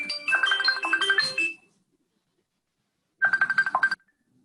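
A mobile phone rings in a classroom during a lesson, a loud electronic melody that plays for about a second and a half, stops, then returns in a short burst of rapid pulsing notes.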